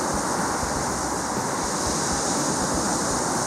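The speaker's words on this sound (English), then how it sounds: "The waves are quite high" High waves and strong wind on Lac Manicouagan, a constant loud roar of surf with heavy wind buffeting the microphone throughout, no pauses.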